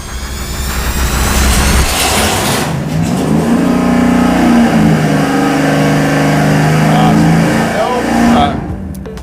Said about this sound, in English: we're gonna fire it up now with a Victor Jr. single plane